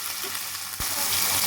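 Ginger garlic paste and onions fry in oil in a pan for a short stretch, a soft steady sizzle with a brief stir or scrape partway through, close and alone.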